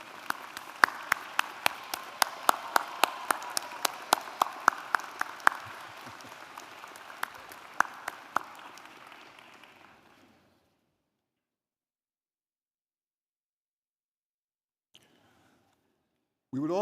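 An audience at a university commencement ceremony applauds in a steady, moderately distant patter with sharper individual claps scattered through it. The clapping fades out around ten seconds, leaving near silence and then a brief sound at the very end.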